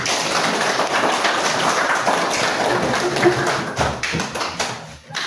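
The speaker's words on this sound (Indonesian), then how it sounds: "Kita tepuk tangan dulu untuk kelompok singa." A children's class clapping for a performing group, a dense, steady patter of many small hands close by that carries on without a break and tapers briefly near the end.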